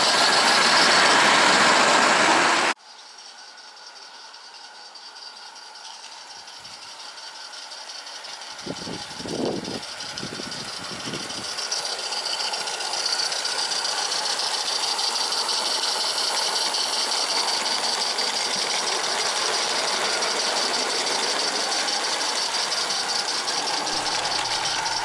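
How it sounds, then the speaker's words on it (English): A John Fowler 0-4-0 model steam locomotive runs with a steady mechanical rattle and hiss that swells after a few bursts of low chuffing and holds at a fairly loud, even level without any voices. "Been a long time since I've run this locomotive"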